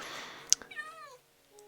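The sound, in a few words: cat meowing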